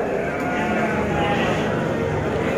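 Garut sheep bleating loudly and continuously at a crowded livestock market before the Qurban season, many animals calling over one another close by, with people talking in the background.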